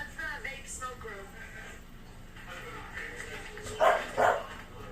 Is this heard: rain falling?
no